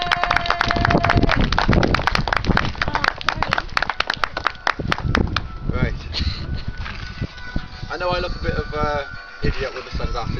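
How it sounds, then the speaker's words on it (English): Outdoor festival audience in a park amphitheatre claps for a poet, a dense burst of close, crisp handclaps over the first five seconds that thins into scattered claps beneath murmuring voices and talk. "Can we give a round of applause, please, for Ryan Draper?"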